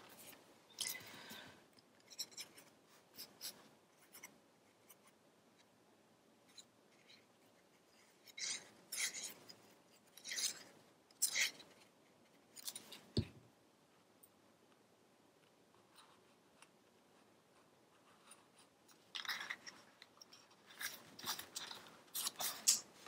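Scissors hand-trimming a half-inch paper strip, close and quiet, with short bursts of crisp snipping and rasping cuts separated by silent pauses.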